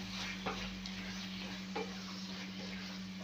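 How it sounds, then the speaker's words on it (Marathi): Prawns fry in a spicy masala, a steady low sizzle with a few soft stirring scrapes of a spoon against the pan, close and alone. "मसाल्यात थोडीशी आपण फ्राय करून घेऊया"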